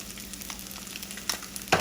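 Rice sizzling and frying in bacon butter for bacon fried rice, a steady close crackle throughout with a brief louder burst of sizzle near the end.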